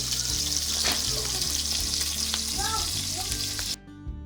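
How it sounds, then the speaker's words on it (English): Food sizzles in a frying pan with steady, crackling hiss and occasional stirring scrapes, close and fairly quiet, before cutting off near the end. "Gotta love that sizzle."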